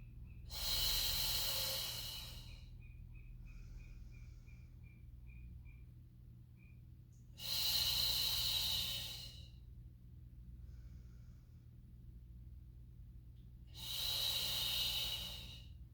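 A person breathes deeply in and out during a Pilates mat exercise: three long, loud airy exhalations roughly six seconds apart, close to the listener, with quiet stretches between them.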